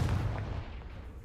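Confringo fire spell blast cast in Hogwarts Legacy, a single booming burst with a low rumbling thud that decays over about a second, heard alone.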